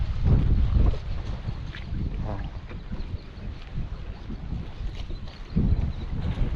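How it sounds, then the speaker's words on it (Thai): Wind blows across the end of a fishing pier at Hat Won, buffeting the microphone in low rumbling gusts that are strongest at the start and again near the end. "ก็ลมไปหน่อย"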